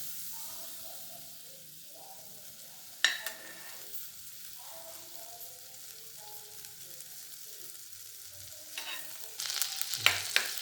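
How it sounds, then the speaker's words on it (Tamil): Butter melts and sizzles in a hot, dry pan while paneer butter masala is being made, a soft steady fizz with a couple of sharper spatters and a louder burst of sizzling near the end. "இப்போ பட்டர் போடுவோம். பட்டர் நல்லா மெல்ட் ஆகட்டும்."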